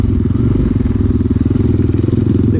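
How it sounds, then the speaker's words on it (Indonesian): A 250cc motorcycle engine revs hard up close on a muddy dirt trail after rain, a loud continuous throbbing roar with rapid pulsing beats. "Motor 250cc ini"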